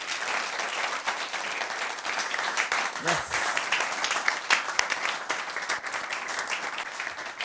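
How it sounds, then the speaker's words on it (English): An audience at a talk show on mind-set education breaks into sustained applause to welcome a speaker onto the stage. The clapping is dense and continuous, and a voice speaks briefly over it. "please help me welcome Peter Kimwere on stage with a big round of applause"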